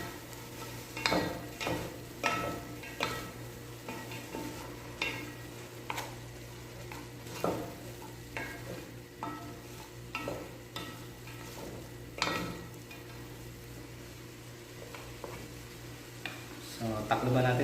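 Pancit canton noodles with bell pepper being stir-fried in a pan, a steady sizzle under repeated scraping and clacking strokes of a utensil against the pan, fairly close.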